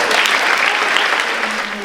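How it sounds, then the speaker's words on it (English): Brief, loud, dense clapping from a crowd at a school prizegiving, sustained evenly for the whole moment. "If we could give those a round of applause."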